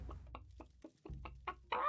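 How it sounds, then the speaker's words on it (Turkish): A chicken clucks in the video game Witch It, a run of short, evenly spaced clucks ending in a slightly longer, louder call, fairly quiet and alone. "Köşede benim tavuk ötüyor."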